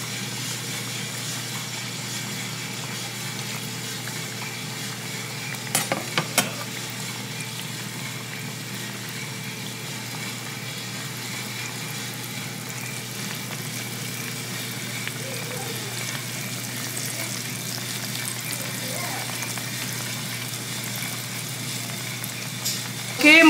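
A breaded fish fillet fries in hot oil with a steady, even hiss that holds throughout, with a couple of brief clicks near the start and a louder bump at the very end.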